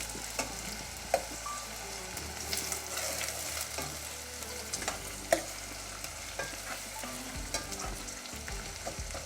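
Onions sauté for sausage pulao with a low, steady sizzle and occasional stirring clicks, quiet and close, with no one speaking.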